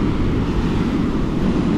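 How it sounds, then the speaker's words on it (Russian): Broad, steady roar of heavy sea waves on a shore with concrete slabs, the surf loud and continuous with wind noise across the microphone and no distinct breaks between swells. "Волны вообще серьезные."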